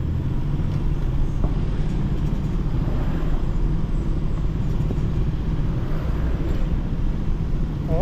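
Steady road traffic rumbles along a street in Barangay Iringan, a dense continuous wash of car and motor noise with low engine drone and no pauses.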